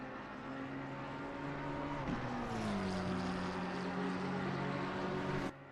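Race car engine in Assetto Corsa Competizione holding a loud, sustained drone that sweeps in pitch as the throttle opens, close and continuous until it cuts off abruptly near the end.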